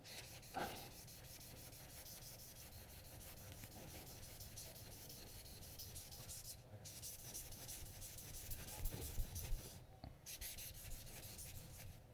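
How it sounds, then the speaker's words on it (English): A Moritaka gyuto knife blade is hand sanded with fine grit paper, giving a faint, continuous scratchy rubbing with uneven back-and-forth strokes and a few brief pauses. "that's really just scuffing up the blade, getting that nice haze"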